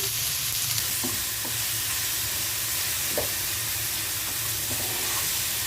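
Green chillies, tomatoes and salt drop into a pot of simmering lentils, giving a steady broad sizzle with a few soft taps and clinks of ingredients landing, close and continuous without talk.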